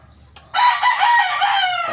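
A young Talisay Grey Hatch stag rooster crows once, loud and near, a long sustained call that starts abruptly after a quiet moment in a backyard farm.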